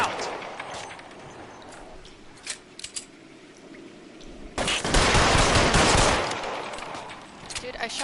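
Gunshots in a shootout in the video game L.A. Noire, a few sharp cracks followed by a loud dense burst of fire, with game noise and a voice now and then.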